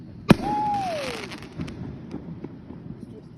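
A single sharp firework bang at a shopping mall, followed by a rising whistle that fades, then faint crackles and distant pops with people talking in the background.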